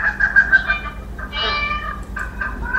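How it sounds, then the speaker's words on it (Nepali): A cat meows several times in quick succession, close and fairly loud. A short pause follows, then another drawn-out cry and a few fainter calls. "बिरालो पनि पराएको छ बाख्रा पनि पराएको छ"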